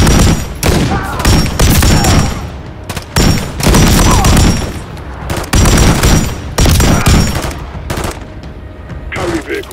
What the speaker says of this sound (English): Keep laying down fire.